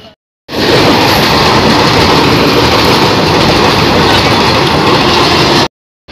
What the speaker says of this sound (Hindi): हमरो ट्रेन टी एबाटा एबे आसी गला, सेतपई गेटटा एबे खुला हो गला